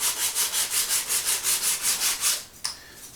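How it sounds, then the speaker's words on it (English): Sandpaper rubbed back and forth on wooden pottery throwing sticks, about a dozen even rasping strokes in steady rhythm, close up, ending with a light knock. "at the moment I've got a bunch of these here that I'm in the process of sandpapering"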